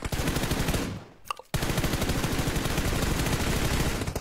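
Continuous rapid automatic gunfire in the mobile battle royale game PUBG Mobile, loud and close, with a brief pause near the middle before the dense bursts resume.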